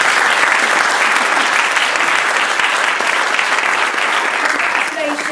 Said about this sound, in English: So can we have a round of applause one more time, please?